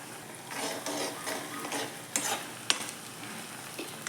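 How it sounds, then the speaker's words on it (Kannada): Oil with leaves and flowers in it boils in a pan, a steady fizzing sizzle with bubbling and a few small pops and clinks, close and fairly quiet with no talking. "ನೋಡಿ ಹೇಗೆ ಕುದೀತಿದೆ"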